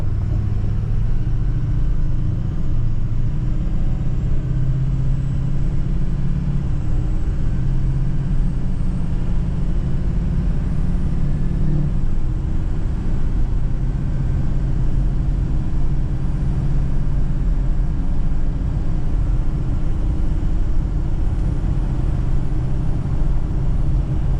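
A 2004 Ford Excursion 6.0L Powerstroke diesel cruises gently, heard from the cabin as a constant low rumble with a subtle change partway through as it shifts, steady and unbroken, no voices.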